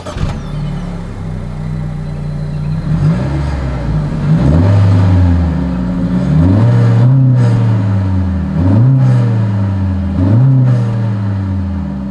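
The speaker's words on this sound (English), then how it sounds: "As always, here is that exhaust clip." Dual exhaust of a 2025 Honda CR-V, heard up close and loud with no talk: a low idle rumble broken by a series of about five repeated throttle blips that rise and fall.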